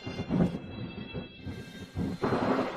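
Thunder rolls in a deep, continuous rumble that swells and eases over a few seconds, moderately loud, with no voices.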